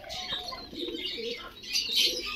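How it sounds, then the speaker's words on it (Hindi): Pigeons kept by a pigeon fancier cooing softly near a quiet riverside spot, low repeated coos with some higher chirps and a brief flutter, fairly close. "और यहाँ पर कबूतर है।"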